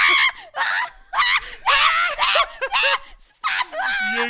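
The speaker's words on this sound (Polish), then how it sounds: "Jejku, jak ty krzyczysz." Children scream and shriek in short, loud, high-pitched bursts during a button challenge game, broken by brief pauses and mixed with giggling.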